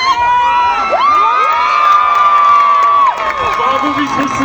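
A crowd at the Miss Roussillon beauty pageant cheers and claps for the newly crowned winner, loud and continuous, with a sustained musical tone ringing over the applause and shouts.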